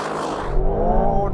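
An Aston Martin Vantage launches hard and accelerates, its engine note rising in pitch as the revs climb, loud and close, with a brief drop partway through.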